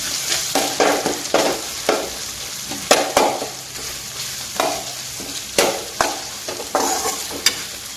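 Tomato and carrot pieces coated in ginger garlic paste are stirred in a pan for carrot rice, with a spoon scraping in a steady rhythm of close, distinct strokes over a light sizzle.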